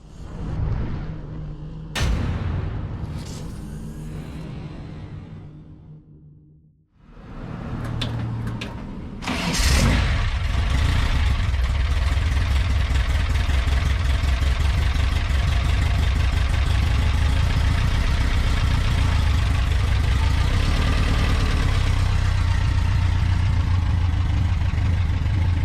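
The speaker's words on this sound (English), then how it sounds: "Let's do a cold start on her. Fire up, back her out." A VW 1760cc stroker engine, built on a stock cast crank, cold-starts after a few cranking bursts, then settles into a loud, steady, close idle that runs on alone.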